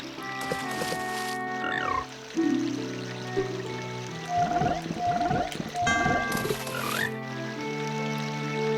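Frogs from the Zelda: Ocarina of Time frog mini-game croak and chirp in quick rising and falling calls over looping game music, close and clear with no talking.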